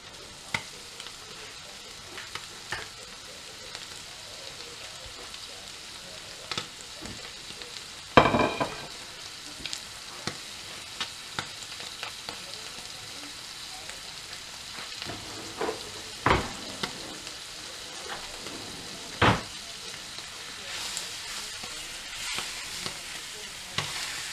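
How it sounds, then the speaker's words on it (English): Steak fries in peppered fat in a pan, a steady soft sizzle close by, punctuated every few seconds by sharp clicks and scrapes from turning and pressing the meat. "into there we're going to put our steak."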